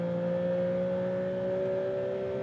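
A Maserati MCPura in sport mode accelerating hard toward top speed, a steady loud engine drone with sustained tonal whine heard from inside the cabin, no voices.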